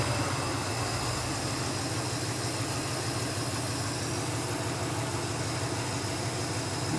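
A steady engine idle, a continuous even rumble with constant vibration and no changes in pace, heard close and alone.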